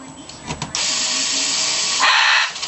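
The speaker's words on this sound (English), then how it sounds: "Put our five screws back in." A screwdriver or drill drives screws back into a PlayStation 3 console during reassembly, giving a close, steady whirring run of about two seconds that swells louder near the end after a few short knocks.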